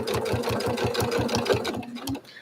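A sewing machine stitches quilt fabric in a fast, even mechanical chatter of needle strokes, close and steady, slowing and stopping near the end.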